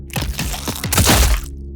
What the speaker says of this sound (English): bone breaks